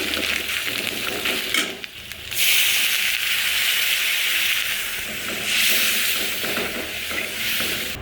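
Garlic fries in a pan with a loud broadband hiss that swells in waves as it is stirred, dipping briefly then rising again, close and continuous with no voices.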